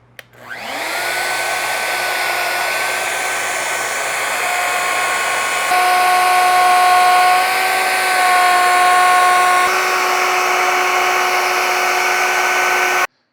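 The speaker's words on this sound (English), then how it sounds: "now what I'm going to work on is cutting the mortises in the bedposts" A power tool cutting mortises into wooden bedposts for a pencil post bed spins up sharply, then holds a loud, steady high-pitched motor whine whose pitch shifts slightly a few times before it cuts off abruptly.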